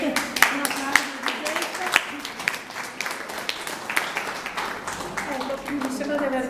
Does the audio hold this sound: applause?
yes